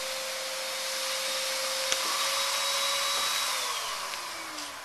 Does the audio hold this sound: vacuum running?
yes